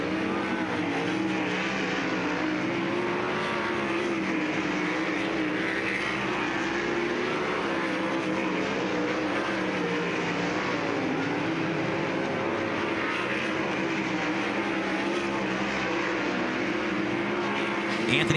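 Dirt sprint race cars roaring through hot laps at Lernerville Speedway, a dense, continuous engine howl from several cars at full throttle, loud and unbroken, with no talk over it.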